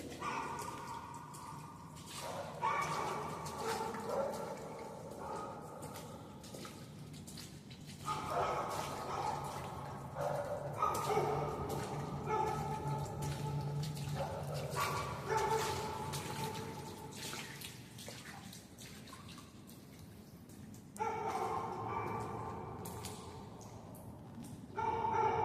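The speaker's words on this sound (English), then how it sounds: "And those dogs are not going to stop barking," Dogs bark repeatedly at a distance outside an underground culvert, their calls echoing down the tunnel while water drips and trickles close by.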